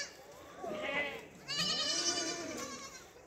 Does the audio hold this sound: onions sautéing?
no